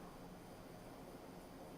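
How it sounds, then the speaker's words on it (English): Steady, loud engine drone fills a passenger plane cabin, a constant broadband roar with no breaks and no voices. "God, this plane is loud,"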